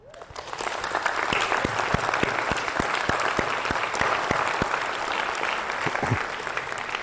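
An audience at a physics conference claps steadily for several seconds, the applause rising quickly and holding at an even, full level before tapering at the end.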